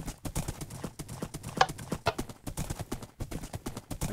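Horse hooves clip-clop at a quick, uneven trot in a video game, sharp close strikes repeating rapidly throughout with no talking.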